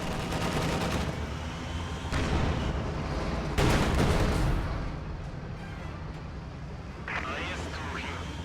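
Video-game anti-tank gun firing at an IS-2 tank, with loud cannon shots and booms over a constant battle rumble while a voice talks throughout.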